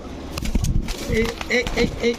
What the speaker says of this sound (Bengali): এখন দেখাবো এক জোড়া কাকজি কবুতর, এটা হচ্ছে কাকজি নর